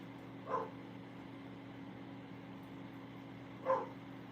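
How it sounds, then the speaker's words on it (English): Two short, muffled dog barks a few seconds apart, somewhat distant, over a steady low hum with no talking, at an ice camping setup. "What are you barking at"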